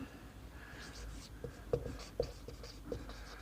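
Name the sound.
pen writing given data on paper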